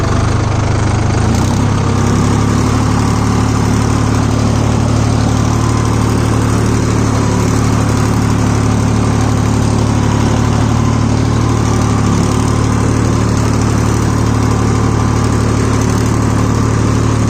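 A Solis 5024S 4WD 50 HP tractor's diesel engine runs continuously at close range pulling a rigid cultivator in a dry field, a low rumble with constant tone and no voices.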